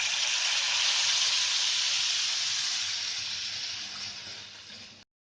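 Rice seera mixture is poured into hot ghee in a kadhai, setting off a loud, bright sizzling hiss that holds steady, slowly fades over several seconds, then cuts off abruptly.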